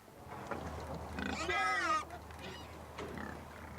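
Wild boar grunting and squealing in Sussex woodland, a rising squeal in the middle framed by rougher grunts, fairly close over a low steady hum.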